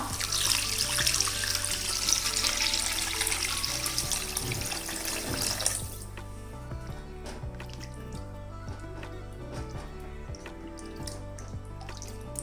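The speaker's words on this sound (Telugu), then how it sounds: "తగినన్ని వాటర్ పోసుకుందాం." Water is poured into cooked carrot rasam paste, a loud rushing, splashing pour for about six seconds that then stops, leaving quieter drips and small clinks close by, with no talking.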